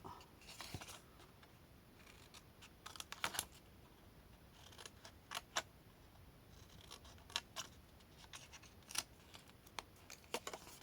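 Scissors snipping through paper while a small Tic Tac ribbon-storage box is made, a quiet, close series of irregular crisp cuts and clicks with no talk.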